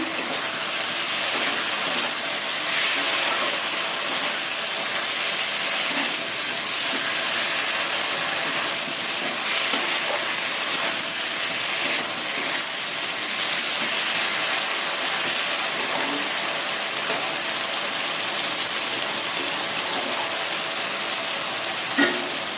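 Pointed gourd and potato pieces frying together in hot oil in a Bengali kitchen, giving a dense, steady sizzle and hiss that runs without a break, with faint stirring knocks and no voices.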